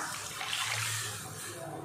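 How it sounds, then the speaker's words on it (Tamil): Tamarind water pouring into a pot of vegetarian fish-style kuzhambu curry, a steady broadband splashing rush lasting about two seconds, fairly close and continuous with no talk over it. "அந்த புளி தண்ணி சேர்த்துடலாம்."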